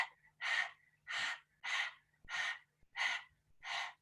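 Kapalabhati breath of fire in a yoga class, seven sharp, forceful exhalations through the nostrils in a steady rhythm about every 0.6 seconds, close and clear with quiet gaps between.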